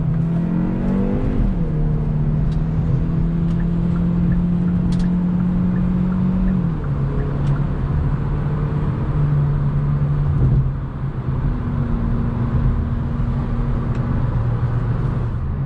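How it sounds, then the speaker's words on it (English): A 2021 Hyundai Elantra N Line is taken through sharp corners, its engine droning steadily from inside the cabin and rising and falling in pitch as the car accelerates and eases off. "taking this Elantra N-Line on sharp corners like this, it does actually handle very good"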